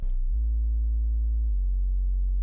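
A deep, steady sub-bass synth tone holds alone, smooth and sustained, dropping slightly in pitch partway through.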